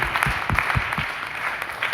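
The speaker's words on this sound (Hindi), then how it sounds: "इसके लिए ताली होनी चाहिए।" A seminar audience claps steadily through a trainer's talk on women in the workforce in India, a dense continuous patter of many hands with no voices.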